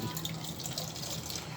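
Water runs from a tap while making homemade hand soap, a steady close splashing stream with light dripping texture, alone and fairly faint throughout.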